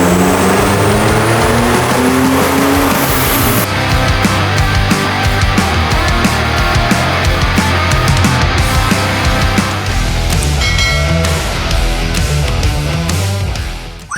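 Toyota Revo Fortuner pickup with a variable-geometry ball-bearing turbo pulling in fourth gear, a loud steady engine drone rising smoothly with a faint turbo whistle and rhythmic mechanical ticking throughout.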